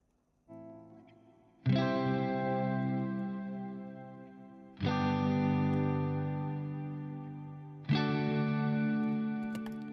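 Three clean electric guitar chords are strummed a few seconds apart, each ringing out long and slowly decaying under heavy reverb, with no other sounds.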